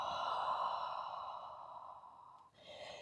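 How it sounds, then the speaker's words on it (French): Long, deep exhale through the mouth during a home yoga session, close and soft, fading out over a few seconds before another breath begins. "une grande inspiration par le nez et une grande expiration par la bouche"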